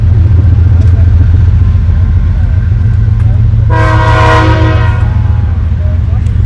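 A train rolls past near an outdoor quidditch championship pitch in San Antonio, a loud constant rumble with a brief blaring horn blast in the middle.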